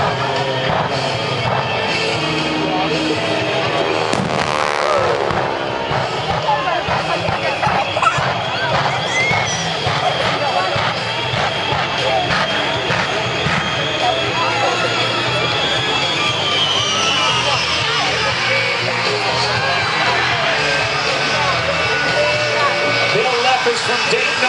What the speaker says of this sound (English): The Shockwave jet truck, on the other hand, will have a standing start.